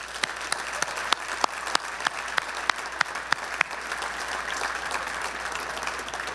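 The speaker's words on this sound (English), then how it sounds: "one final round of applause." A final round of applause at a Wall of Honor induction ceremony, with steady crowd clapping punctuated by several sharp, louder individual claps near the front, continuing evenly to the end.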